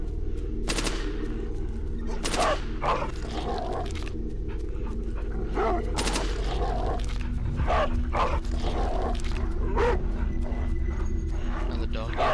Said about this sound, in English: Another dog.